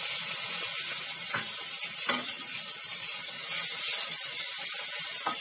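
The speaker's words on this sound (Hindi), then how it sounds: "जीरा ब्राउन हो गया, इसमें अब मैं इस मसाले में से एक टीस्पून ये मसाला डालूंगी।" Steady broadband sizzle of spice mix hitting browned cumin in hot oil for a zucchini curry, continuous and close throughout with a couple of brief clinks, no voices.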